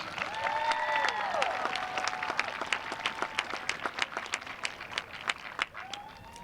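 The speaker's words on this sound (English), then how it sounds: "Graduates, please give your families a well-deserved round of applause." A graduation crowd at a high school commencement breaks into sustained applause mixed with whistles and cheers, thinning toward the end into scattered individual claps.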